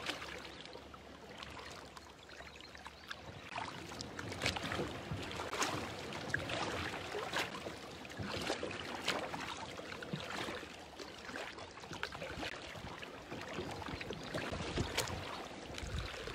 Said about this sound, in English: Going through lots of water lilies now.